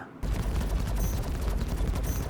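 Ship guns fire in the Star Citizen game aboard a Carrack, a dense rapid barrage of loud overlapping shots that runs continuously with no pauses.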